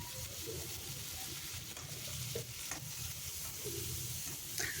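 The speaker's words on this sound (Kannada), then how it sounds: "ಅದು ನೀಟಾಗಿ ಚೆನ್ನಾಗಿ ಸ್ಮ್ಯಾಶ್ ಆಗೋವರೆಗೂ ಫ್ರೈ ಮಾಡ್ಕೊಳ್ಳಿ." Chopped tomato fries with chicken liver in a pan over medium heat, giving a steady, close sizzle with occasional soft stirring scrapes and no voices.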